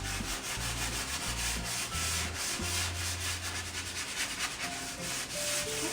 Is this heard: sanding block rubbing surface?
yes